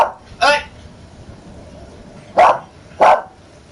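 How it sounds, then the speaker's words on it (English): A dog barks three times, loud and close: one sharp bark near the start and a quick pair of barks toward the end, with quiet room tone between. "Sorry, that's my dog."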